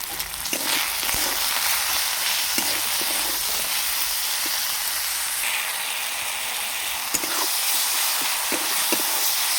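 Masala spices with salt, turmeric and ground coriander fry in oil in a pan, giving a steady close sizzle with a few light scraping stirs throughout.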